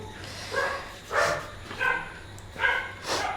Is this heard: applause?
no